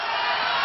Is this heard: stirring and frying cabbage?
no